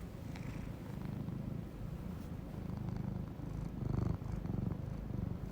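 A cat purrs steadily up close, a low rumbling drone that swells slightly with each breath and continues throughout without any voices.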